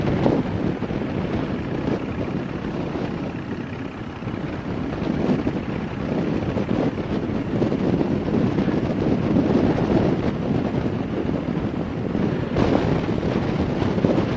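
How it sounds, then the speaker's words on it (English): Steady wind roars across the microphone throughout, a continuous low buffeting rush with no pauses and no talking. "A little windy."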